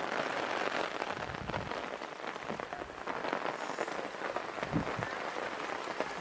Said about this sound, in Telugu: మా ఏరియాలో అయితే వాన పడింది